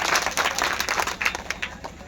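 Audience at a live village comedy program claps loudly, a dense burst of applause that swells and then thins out slightly toward the end.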